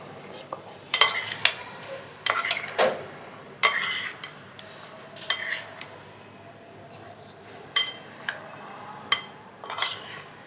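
A spoon mixes black chana chaat with tamarind extract in a bowl, giving sparse, distinct clinks and scrapes against the dish, separated by short pauses in an otherwise quiet kitchen.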